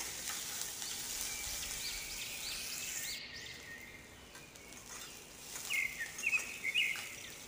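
Chopped onion frying in a pan for a lobia (black-eyed pea) curry, a steady broad sizzle throughout with a few brief stirring scrapes toward the end, no voices.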